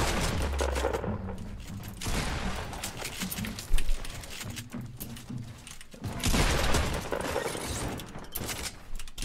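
Gunfire in a Fortnite Battle Royale match, including sniper shots from a distant depot, comes as repeated bursts of shots and impacts in steady game noise, with no voices.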